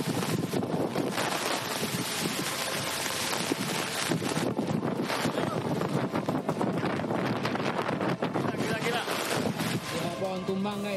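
Strong storm wind in the BSD area of Tangerang Selatan, where trees were toppled, roars and buffets a microphone continuously with loud gusts, while people can be heard talking underneath.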